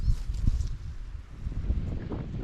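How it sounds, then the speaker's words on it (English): Wind picking up outdoors at a driftwood shelter by the shore, buffeting the microphone in uneven gusts with low rumbling thumps, moderately loud and without speech. "It's starting to get windy."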